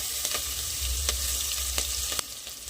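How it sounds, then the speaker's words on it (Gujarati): Green chillies hit a hot pan of sizzling cumin, asafoetida and ginger-garlic paste for pav bhaji, a loud steady frying hiss broken by several sharp spoon scrapes and clanks. "હવે એમાં લીલા મરચાં ઉમેરી દઈશું।"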